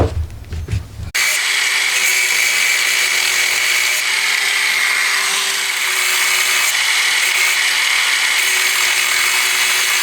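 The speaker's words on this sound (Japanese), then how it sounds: "この辺はグラインダーでやっちゃいます。" A grinder cuts slots into brass screw heads, giving a loud, continuous high-pitched whine and grinding hiss close by. It follows a brief burst of handling noise and runs steadily for nearly nine seconds.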